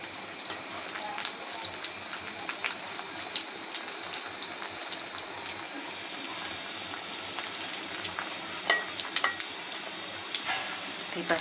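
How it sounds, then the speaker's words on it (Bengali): Food frying in hot oil in a pan gives a steady, fairly close hiss and crackle, with a few small clinks and splashes on top and no talking. "আমি এইভাবে করে সবগুলো ভেজে নিচ্ছি।"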